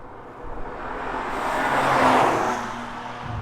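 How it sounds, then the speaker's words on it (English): A BMW M2 Competition surges past under hard throttle, its engine roar swelling to a peak and fading, heard from outside at moderate distance without speech. "just stomp your foot on the throttle and the power is just there. The gearbox only needs to do one quick downshift and off you go"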